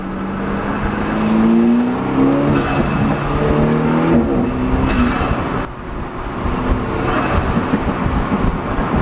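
Steady engine drone heard from inside a BMW F30 with an aftermarket diverter valve, with a rising high-pitched turbo whine as it accelerates, briefly easing off before building again.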